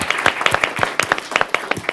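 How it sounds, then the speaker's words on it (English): A small council meeting audience breaks into a round of applause, a dense run of sharp, irregular hand claps that stays steady and fairly close. "but let's give her a round of applause."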